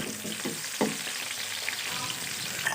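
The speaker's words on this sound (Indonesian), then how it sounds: "Bawang putih dan bawang merah ditumis beserta dengan cabai merahnya." Garlic, shallots and red chili sautéing in hot oil for a peanut sauce, giving a steady close sizzle with a few stirring scrapes and one sharp clatter near the start.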